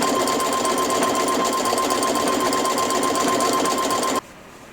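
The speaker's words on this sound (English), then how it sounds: "Because I'm using the end foot, it's allowing the fabric to move through freely." A sewing machine fitted with an end foot feeds fabric through freely, a loud, continuous close-up whirring buzz with a steady tone that cuts off sharply near the end.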